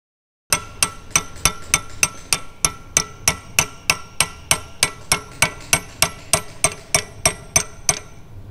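A hammer taps a metal sleeve on during a vacuum pump motor overhaul in a steady, even rhythm, about two bright ringing strikes per second, close and unaccompanied.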